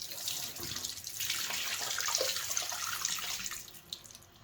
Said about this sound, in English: what's going to finish this off is washing it and rinsing it out with water